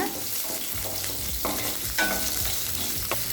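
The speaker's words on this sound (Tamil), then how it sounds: "இப்போ சின்ன வெங்காயம் நல்லா வதங்கிடுச்சு" Small onions, or shallots, sautéing in a pan for a green chilli chutney. A steady sizzle is broken by several sharp scraping stirs of the spatula, with no talking.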